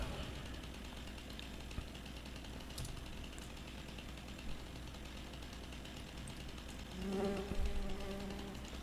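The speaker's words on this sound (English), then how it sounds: "Oh, I guess it's the bees." Faint, continuous buzzing of bees in the video game Farming Simulator 25 drones throughout, with a few small clicks and a brief louder swell near the end.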